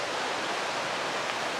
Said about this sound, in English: Got a nice flowing stream just right on trail.